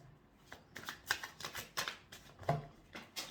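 Tarot cards shuffled by hand, a series of close papery riffles and slaps in an uneven rhythm, with a few cards spilling out.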